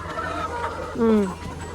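Chickens clucking nearby, with a short rising squawk in the middle over a low steady background hum.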